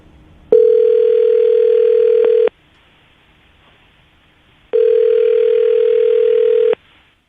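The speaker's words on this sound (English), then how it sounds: "I'm going to dial the phone number right now" A telephone line tone plays as a number is dialed: two long, steady electronic tones of about two seconds each, separated by a quiet pause of similar length.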